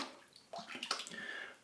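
A shaving brush with an adjustable aluminum handle dunked and swished in water, giving soft gurgling splashes and drips at close range, quiet and alone.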